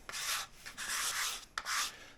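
Sandpaper of 120 grit rubbing along a diamond willow walking stick, three or four long rasping strokes close up at an even back-and-forth pace.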